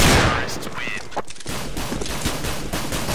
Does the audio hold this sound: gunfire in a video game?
yes